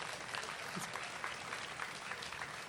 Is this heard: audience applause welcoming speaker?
yes